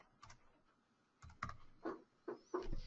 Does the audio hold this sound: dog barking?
no